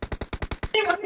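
Rapid automatic gunfire from the game PUBG played on an iPhone 7, about seven sharp evenly spaced shots, followed by a brief voice callout.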